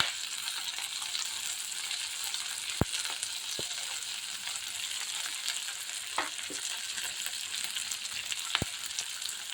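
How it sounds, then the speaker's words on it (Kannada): Coriander and vegetables frying in oil in a pan for restaurant-style tomato soup, a steady soft sizzle throughout with a few sharp clicks of a utensil against the pan, no talking. "ಎಲ್ಲಾನು ಚೆನ್ನಾಗಿ ಎಣ್ಣೆಯಲ್ಲಿ ಬಾಡಿಸ್ಕೋಬೇಕು"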